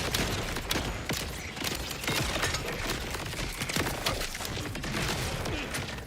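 Video game combat with gunfire and rockets, a dense barrage of rapid shots and blasts that keeps up loud and continuous throughout, with no voice over it.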